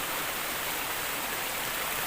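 A clean river at Abacsa in Bauan, Batangas rushes steadily, a continuous loud wash of flowing water with no pauses and no voices.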